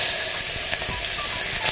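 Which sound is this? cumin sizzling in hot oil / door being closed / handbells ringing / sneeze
cumin sizzling in hot oil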